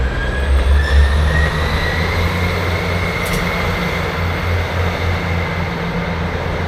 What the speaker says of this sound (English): just as the train passes there